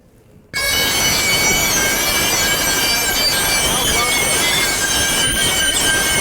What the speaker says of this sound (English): Oh, I love the sound of dry ice in the morning.